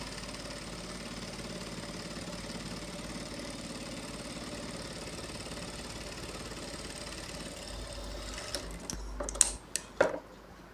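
A sewing machine stitches the lining of a blouse with a steady, continuous motor whir that runs for about eight seconds, then stops, leaving a few sharp clicks and knocks of fabric handling.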